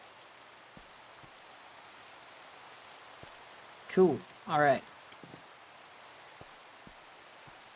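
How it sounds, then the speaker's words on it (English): Steady rain in the Minecraft ATM10 modpack, a soft even hiss with faint scattered drips throughout, and a man's brief spoken words partway through. "Get rid of some of this rain."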